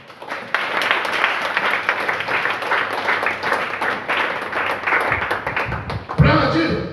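Church congregation applauding during a worship service, a dense continuous wash of many hands clapping that carries on for several seconds before easing off, with a voice speaking near the end.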